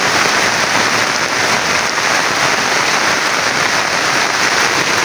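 Very heavy rain pours down steadily and loudly in a continuous, dense hiss of drops, alone with no pause or voice across the stretch.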